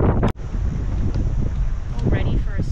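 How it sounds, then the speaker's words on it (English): Steady wind buffeting the microphone with a constant low roar at a beach campground in Bundjalung National Park, Australia, faint voices murmuring underneath. "It's beautiful, just a bit windy."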